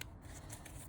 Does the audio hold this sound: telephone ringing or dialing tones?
no